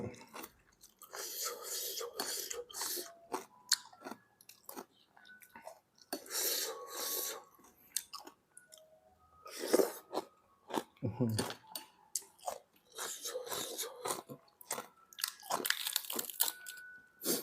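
Someone biting and chewing mountain shrimp, with crunchy, irregular mouth sounds close to the microphone, separated by pauses and soft speech.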